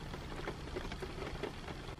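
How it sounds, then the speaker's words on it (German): Light rain patters steadily outside a camper van parked in Brittany, France, a soft, even hiss of drops close by with no voices. "Hört man den Regen? Es regnet ein wenig."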